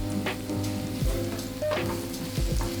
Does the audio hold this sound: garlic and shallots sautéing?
yes